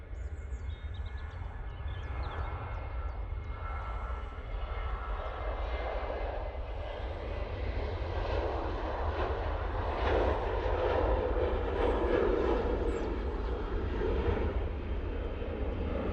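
Jet2 airliner on its takeoff roll, a steady, powerful engine roar that swells gradually and rumbles from a moderate distance, with faint bird chirps early on and no voices.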